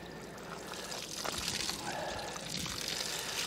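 Water poured through Lowe's drainage fabric, a steady faint pouring and trickling wash that continues throughout with no talk.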